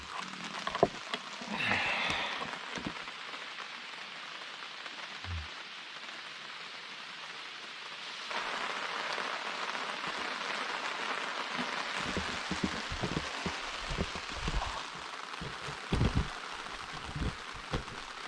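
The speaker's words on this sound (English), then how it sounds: "Well, it finally started to rain." Rain pattering on surfaces at a campsite in Algonquin Park, Ontario, a steady soft hiss that thickens partway through, with scattered close drips and light handling knocks.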